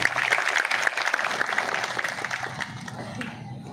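An audience at a college event in Santrampur breaks into applause, a dense burst of many hands clapping that thins and fades over a few seconds.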